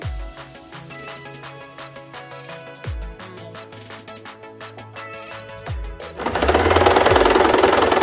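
A sewing machine stitches a blouse rope in fast, even runs of needle clatter, stopping and restarting a few times before a louder, denser stretch near the end; no one speaks.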